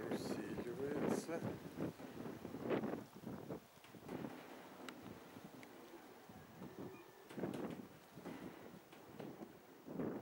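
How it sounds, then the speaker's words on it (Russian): Strong wind gusting outdoors where young Kirovograd pigeons are flying, a rough low roar that swells and fades in waves with faint voices talking beneath it. "Ветер усиливается."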